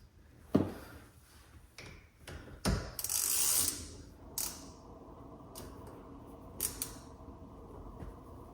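Ratcheting clicks and small metallic taps from a tool tightening a bolt on a Tesla yoke steering wheel, with a few sharp close clicks and a longer rasping burst midway, no talking.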